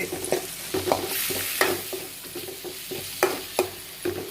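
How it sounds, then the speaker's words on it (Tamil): Curry leaves and tomato sautéing in a pan over high flame: a continuous sizzle broken by repeated scraping stirs at an irregular rhythm, close and fairly quiet, with no talking. "நல்லா வதக்கிட்டு நல்லா வதங்கணும். ஹை ஃப்ளேம்லேயே வச்சுக்கோங்க."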